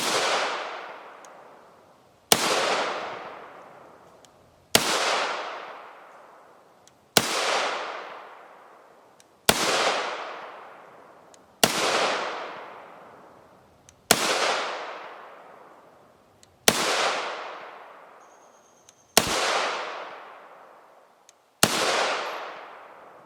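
Ten sharp gunshots from a 10.5 inch SBR rifle firing .223 Remington Scorpio 55gr FMJ, evenly spaced about two and a half seconds apart, each a crisp crack followed by a long decaying echo outdoors.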